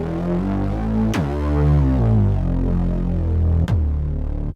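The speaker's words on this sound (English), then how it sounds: "Deep Tube. And it's actually a synth bass." A deep, tube-flavoured synth bass preset named Deep Tube from Expand sounds a thick, buzzy sustained line, sliding between pitches, with two sharp clicks marking note changes, loud and alone.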